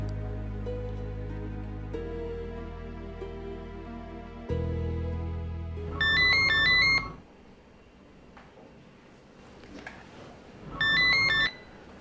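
A phone ringtone rings twice in short bursts of a bright repeating melody, cutting in over a sustained musical score with low tones, from a 2005 Indian film.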